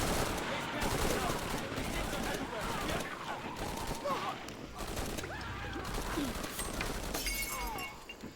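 Gunfire and chaotic combat in the action-adventure game Shadow of the Tomb Raider, a dense barrage of cracking shots and shattering impacts mixed with shouting voices and creature cries.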